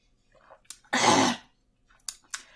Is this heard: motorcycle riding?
no